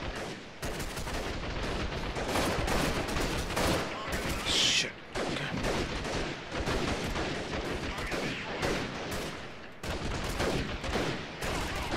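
A sustained fusillade of rapid automatic gunfire fills a firefight in the video game Freeman: Guerrilla Warfare, heavy and unbroken, with a brief lull midway and faint voices under the shooting.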